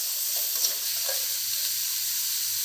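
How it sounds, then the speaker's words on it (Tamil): Onions and tomatoes sautéing in a pan for a spicy tamarind curry, making a steady close hiss of frying with a faint stir or two near the start and no talking. "வெங்காயம் வதங்கிடுச்சு தக்காளி ரெண்டு கட்டணும் வச்சுருக்கோம் அதையும் கொடுப்போம் தக்காளி நல்லா வதங்கணும்"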